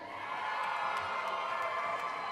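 A large crowd of students cheers for their advisors at the Iowa FFA State Leadership Conference session, with sustained whooping and shouting filling a big hall, steady and loud throughout.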